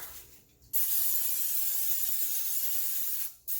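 A loud, steady hiss of an aerosol cooking spray coating the top of namkao for air frying runs for about two and a half seconds, with brief quiet before and after.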